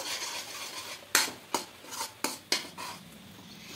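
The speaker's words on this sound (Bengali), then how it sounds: "দিয়ে একটু ভালো করে মিশিয়ে নেব" Rice flour being stirred into palm batter in a pot, a few sharp spoon-against-pot clacks over a soft scraping background, close and fairly quiet, no talk.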